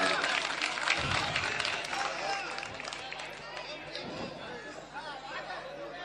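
Audience applause and crowd chatter fill a ghazal recital hall, a dense steady wash of clapping and voices that swells in bursts, with people talking throughout.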